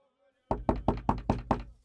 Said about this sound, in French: on toque à la porte